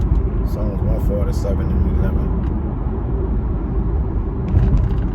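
A car is being driven, its steady engine and road rumble running low and continuous beneath someone talking throughout.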